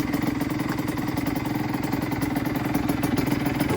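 A 2003 Honda CR85 supermoto engine, freshly rebuilt, runs at a steady idle with a close, loud, evenly pulsing rhythm and no talk over it.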